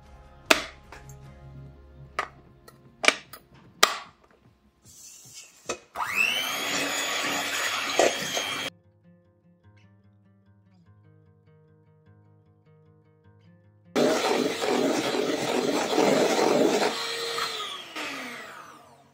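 A mixer beats egg whites with a sprinkle of cream of tartar, running in two steady, fairly loud motorized bursts of several seconds each, separated by a quiet pause with no talking.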